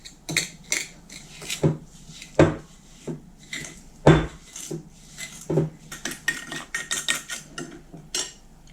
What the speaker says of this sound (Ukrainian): Розітру дріжджі з цукром, аби дріжджі потекли.